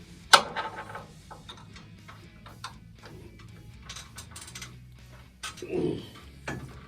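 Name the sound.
wrench loosening nuts on a Model A steering sector housing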